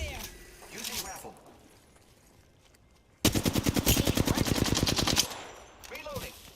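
Rapid automatic rifle fire in the video game Apex Legends: a loud, steady burst of evenly spaced shots lasting about two seconds, with game voice chatter before and after.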